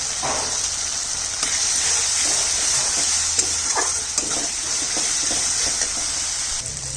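One tablespoon of Kashmiri chilli powder fries in hot oil in a pan for a katla fish dish, a loud, steady sizzle with soft scraping stirring strokes throughout, close and continuous with no talking.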